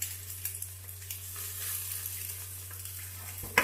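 Eggs frying on a hot tawa for street-style egg tawa fry, giving a steady soft sizzle with faint crackles and pops under a constant low hum, no voices.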